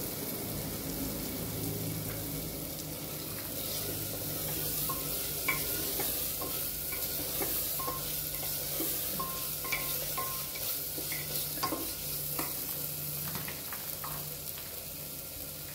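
Potatoes fry with sautéed tomato in a pan for a drumstick and potato curry, a continuous close sizzle with frequent spatula scrapes and stirring clicks throughout.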